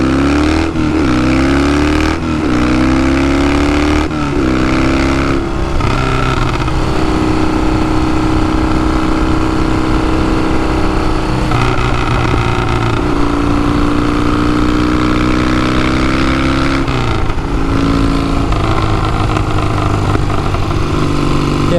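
A motorcycle roars loud and close while being ridden, throttle rising and shifting through gears in a continuous engine drone with brief dips between shifts.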